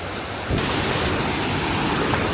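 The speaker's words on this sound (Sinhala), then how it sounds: "ඒ බං අඩෝ සීතල වතුර ටික මෙතන මේ ලීක් වෙනවා මං හිතන්නේ." Cold stream water flowing and leaking through a channel in a rubber plantation, a loud close rushing wash that swells sharply after a brief quieter start and stays steady.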